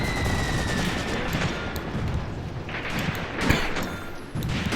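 Battle gunfire from the wartime strategy game Graviteam Tactics: Mius-Front rattles in dense, overlapping bursts and distant booms, a steady crackling barrage of mixed rifle, machine-gun and artillery fire.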